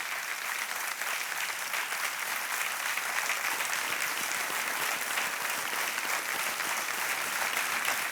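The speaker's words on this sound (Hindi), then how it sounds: "तालियां बजने चाहिए इनके लिए" Studio audience at a KBC quiz show applauding a contestant who has just won 3,20,000 rupees, a steady, dense wash of clapping held evenly throughout.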